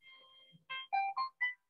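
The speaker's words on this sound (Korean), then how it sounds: "전화가 와가지고" A phone rings during a sermon, a short electronic melodic ringtone of several distinct tonal notes, clear and isolated against silence.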